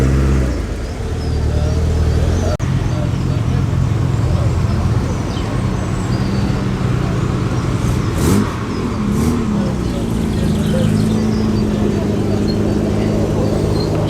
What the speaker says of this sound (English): Midget 1500 is pursued by Jensen Healey. And behind that, Interceptor, the Jensen Interceptor 2.